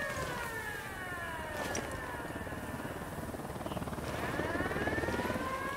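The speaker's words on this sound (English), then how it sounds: "Helicopter incoming." Helicopter approaching in a Ghost Recon Wildlands game scene at a prison village, a low steady rotor chop under a sweeping alarm siren, the rotor growing slightly louder toward the end.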